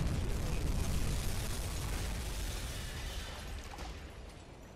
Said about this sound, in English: So we fired the torpedo at the tanker